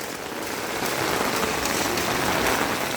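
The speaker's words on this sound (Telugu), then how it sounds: "చూడండి ఎంత పెద్ద పెద్ద వర్షం వస్తూ ఉందో" Heavy downpour on a village street in Oruguntla, Kadapa district, a steady loud hiss of rain striking the ground, continuous and close with no voices.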